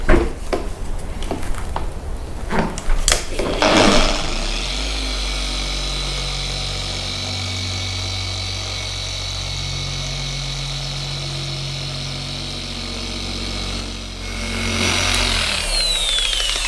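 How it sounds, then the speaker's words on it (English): Rotary car polisher fitted with a red polishing pad and finishing polish, working on a Mitsubishi Evo X. A steady mid-pitched motor drone runs evenly for about ten seconds after a few clicks, then stops. "now we have the red polishing pad, the finishing polish. It's going to go over both these sections."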